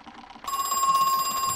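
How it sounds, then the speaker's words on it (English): A telephone rings in the horror video game Crow Country, starting abruptly after a quiet moment and continuing as a steady, bright electronic trill at close range. "The phone again?"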